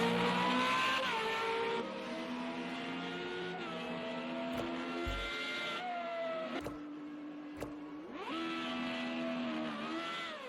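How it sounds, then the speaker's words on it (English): FR35 race car engine at the Austria round, held high against the rev limiter with a steady droning note and brief stuttering cuts, revs dropping and climbing again between gear changes, loud and close throughout. "On the rev limiter"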